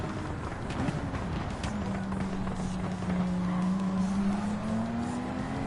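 Race cars roar around the track in Gran Turismo 7, a Toyota Supra among them, with a sustained engine drone rising in pitch as the car accelerates down a straight under dense track noise.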